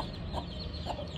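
Hens clucking softly in short bursts against a steady outdoor background, moderately close, with no talking.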